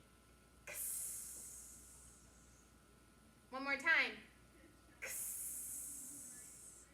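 Children in a Letterland phonics lesson voice the letter x 'ks' sound as a long hissing breath, then repeat it after a short spoken prompt, the voices imitating the sound.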